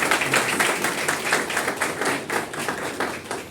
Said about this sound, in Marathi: त्यांच्यासाठी एकदा दिलखुलास टाळ्या व्हायला पाहिजे